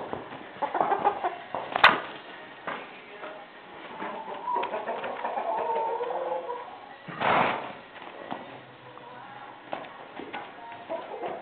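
Chickens cluck and murmur softly nearby, with scattered bird chatter and occasional sharp knocks in an outdoor barnyard setting.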